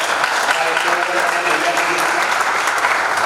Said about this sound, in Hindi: बहुत जोरदार तालियां मैं चाहूंगा हम सब मिलकर